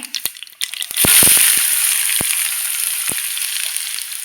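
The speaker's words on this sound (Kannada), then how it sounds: "ಇದು ಈರುಳ್ಳಿ ಇವಾಗ ಫ್ರೈ ಆಗಬೇಕು ಚೆನ್ನಾಗಿ" Finely chopped onion dropped into a hot pan, a few knocks first, then a sudden loud burst of sizzling that settles into a steady hiss with occasional clicks of the spoon.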